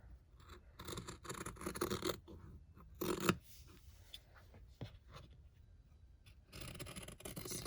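Scissors cut out a paper pattern for a gnome flower petal ornament, making soft, close snipping and scraping strokes that come in irregular bursts with quiet pauses between them.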